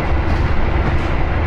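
An Argo Bromo Anggrek new-generation executive passenger train runs along, a loud, steady broadband rumble and roar with no pause and no voices.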